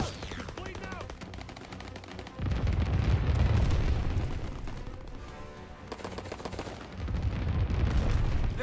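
Anti-aircraft gun bursts in Call of Duty WWII, a dense roar of rapid heavy firing and booming blasts that swells loud in waves with brief lulls between, game battle noise filling the whole stretch.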